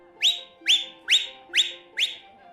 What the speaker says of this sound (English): Cinnabar gave a shrill whistle, cutting through the stamp of hooves and the soft rumble of chattering voices